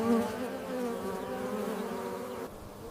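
Honeybees collecting nectar make a steady, close buzzing hum that wavers slightly in pitch and stays unbroken throughout.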